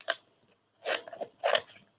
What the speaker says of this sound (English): I am going to trim this up because I do have a lot left here